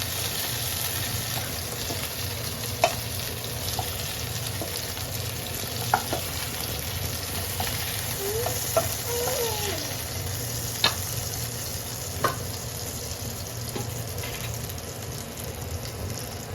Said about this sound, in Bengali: আমার মাছগুলো এখন ভাজা হয়ে গেছে